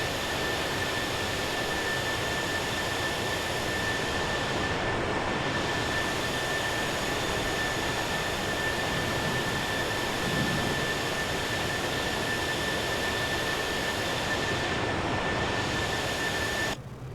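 An A-10 aircraft passes with an unbroken, even roar and a thin steady whine laid over it, holding the same loudness for a long stretch before cutting off.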